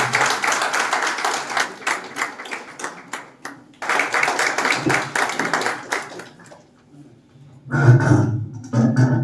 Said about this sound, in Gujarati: આપણા તાળીઓના ગડગડાટ સાથે આદરણીય આલોકભાઈ જગતગુરુ